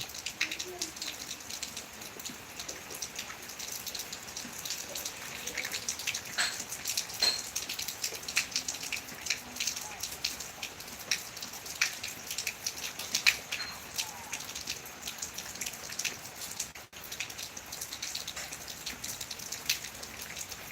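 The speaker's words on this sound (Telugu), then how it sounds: "ఇప్పుడైతే వర్షం స్టార్ట్ అయింది" Steady light rain patters throughout, with scattered drops ticking on a surface; no voices, the sound continuous and moderately soft.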